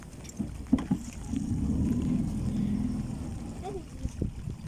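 A small motorboat's outboard engine drones low and steady as it approaches a fishing longline on open water, rising and then easing off, with a few knocks and short voices around it.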